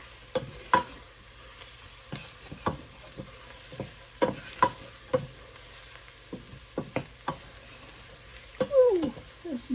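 Garlic frying in a pan, quiet sizzling broken by a series of sharp scraping stirs, with a brief voice near the end.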